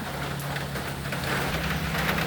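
Steady hiss of rain falling on surfaces, continuous and fairly loud, with a faint low hum underneath.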